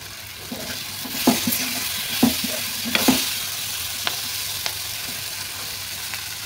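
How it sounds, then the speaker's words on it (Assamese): Powdered spices with fresh green chillies fry and are stirred in a pan for a kawai (climbing perch) fish curry, a steady sizzle punctuated by several sharp scrapes and clinks of the spatula, with no talking. "মছলাখিনি দি এইখিনি ভাজি ল'ম ধুনীয়াকৈ।"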